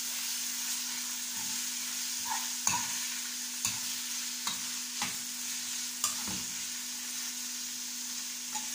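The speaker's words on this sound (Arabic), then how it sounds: "هنقلب بقى كل ده كده مع بعض" Freekeh being stirred into onions frying in a pan for chicken with green freekeh, a steady sizzle and hiss running throughout with periodic scraping knocks of the spoon against the pan, no talking.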